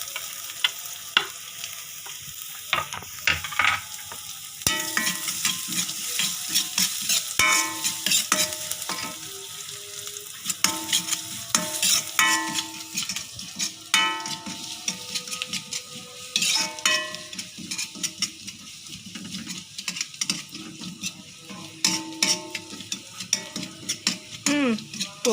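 Ginger, garlic and shallots are stir-fried in a pan, giving a close sizzle with frequent clinks and scrapes of a utensil against the pan in an uneven rhythm, no voices.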